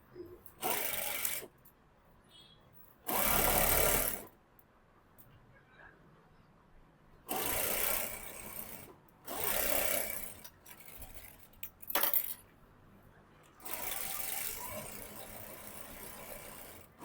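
A sewing machine runs a double stitch along the side seam of straight-cut pants, in several separate bursts of steady whirring broken by pauses, close and fairly loud.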